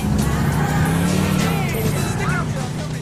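A car drives in the open-world video game GTA 4, its engine a steady continuous roar with a brief tire squeal, loud and close throughout.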